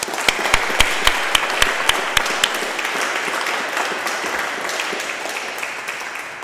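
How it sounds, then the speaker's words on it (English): Lecture-hall audience applause for Professor Cristobal Uauy after a talk on climate and food security, dense clapping with a few sharp, close individual claps standing out early, then settling into a steady, slightly fading patter. "Shall we give Cristobal one more round of applause?"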